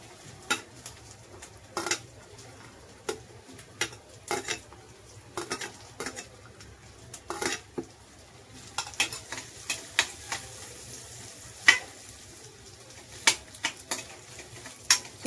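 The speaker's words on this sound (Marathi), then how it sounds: "टाकूया कांदा." Onion goes into a frying pan with soybean oil and is stirred, giving a steady low sizzle broken by repeated scrapes and clinks of a spoon against the pan.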